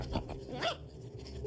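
Dog barking and whimpering indoors during a party, with short yips and a rising whine over a hum of background room noise, close and brief.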